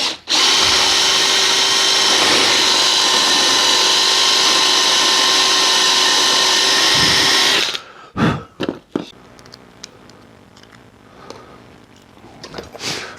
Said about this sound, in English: I've got a countersink drill bit, see on there, and I'm going to try and drill this out